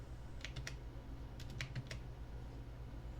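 Faint clicking of keys on a computer keyboard as an email subject line is typed, two brief clusters of keystrokes over a quiet background hum.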